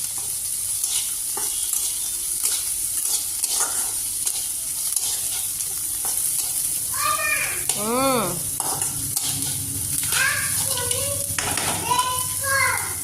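Mustard seeds, curry leaves and peanuts sizzling in hot oil, a continuous close crackle with scraping stirs, while children's voices and chatter carry through from nearby.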